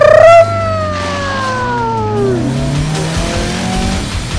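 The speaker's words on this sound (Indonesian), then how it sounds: "Deru mesinnya sangat khas di telinga. Siapa yang tak mengenalnya? Ini adalah salah satu mobil legendaris dunia. Mobil ini dibuat oleh pabrikan ternama Volkswagen." A Volkswagen car engine revs loudly and close, its pitch rising then sweeping downward as it eases off, holding a steady drone to the end with no talking.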